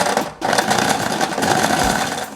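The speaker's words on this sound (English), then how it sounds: "The motor here is meant for sewing machine, and it's not for this purpose." A sewing machine motor driving a corn mill grinder whirs loudly and steadily, cutting out briefly near the start and then restarting to run on at an even pitch.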